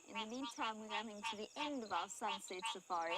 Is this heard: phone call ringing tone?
no